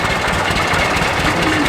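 A John Deere tractor over 100 years old runs at a steam rally, its engine a loud, close, rough continuous chug with a knocking texture.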